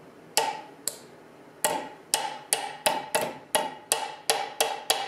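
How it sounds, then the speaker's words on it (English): Sharp hammer taps seating a stud into a Singer 221-1 sewing machine: about a dozen crisp metallic knocks, two spaced apart and then a steady run of evenly timed strikes, close and clear with no talking. "but I'm just going to give it a little whack or two."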